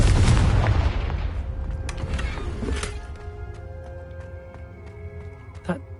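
A booming explosive blast from a spell cast in a wizard video game, loud at the start and decaying into a rumbling tail, with a later small pop and faint tonal game ambience.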